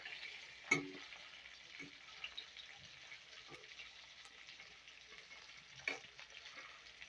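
Fish frying in a pan in a home kitchen gives a soft, steady sizzle throughout, broken by a couple of brief clatters near the start and end.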